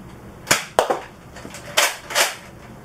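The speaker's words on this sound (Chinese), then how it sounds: "它这个是单发弹簧式的这个单发手动枪" Nerf Elite 2.0 Echo, a single-shot manual spring blaster, fires a foam dart; sharp close snaps and a couple of fainter clacks come in quick succession, with no talking.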